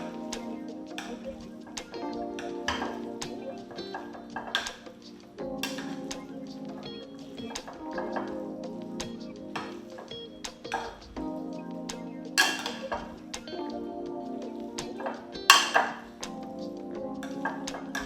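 Shrimp scampi ingredients and butter sauce are mixed in a dish, giving repeated light clinks and taps of a utensil against the bowl at an uneven rhythm, with a voice talking at times.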